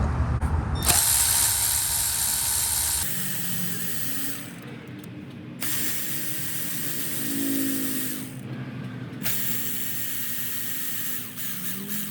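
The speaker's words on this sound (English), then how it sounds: "it's just 3 10mm bolts that I'm gonna take out" Thermostat housing bolts, 10mm, being backed out on a 2014-2020 Chevrolet Silverado with a ratchet or power tool, close whirring bursts with pauses and clicking between, no talking.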